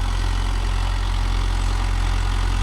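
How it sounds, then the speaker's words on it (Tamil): A Mahindra Yuvo Tech Plus 585 DI 4WD tractor engine runs at a steady RPM, a loud, close, continuous low diesel rumble that holds even with no change in pitch throughout. "அதனால் பிடிச்சா அப்படியே ஒரே மாதிரி இன்ஜின் ஆர்பிஎம் போயிட்டு இருக்குது"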